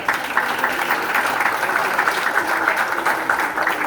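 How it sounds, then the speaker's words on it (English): Graduates at a high school leaving ceremony give a rousing round of applause, a continuous crowd clapping with a slightly distant, roomy sound that stays level throughout. "Graduates, would you give him a rousing round of applause again?"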